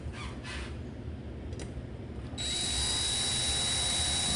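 Electric drill driving a screw during a hugger ceiling fan install, a faint whir at first, then a sudden loud high motor whine that holds steady to the end.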